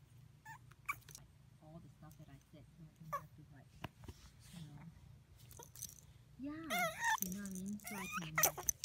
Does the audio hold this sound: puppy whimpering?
yes